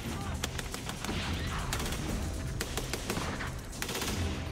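A belt-fed Browning light machine gun fires in rapid, repeated bursts in a combat setting, sharp cracks rattling loudly with brief gaps between volleys.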